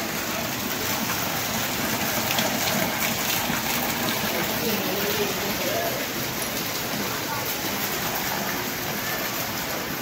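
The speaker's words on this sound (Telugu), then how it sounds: "వర్షం అయితే కంటిన్యూగా పడుతుంది" Continuous rain pours down, a dense, even roar of drops hitting surfaces that lasts throughout, with faint voices underneath.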